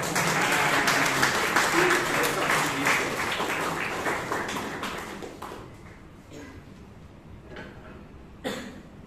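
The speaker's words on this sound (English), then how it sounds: "give him a huge round of applause" An audience at a Toastmasters club meeting in Bangalore gives a loud round of applause for a speaker. The dense clapping lasts about five seconds, fades out with a few coughs, and ends with a single late thump.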